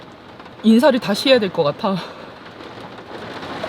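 A sudden heavy rain shower pours down on a summer campsite with a mesh tent in Hongcheon, a steady loud hiss throughout, while someone speaks briefly over it.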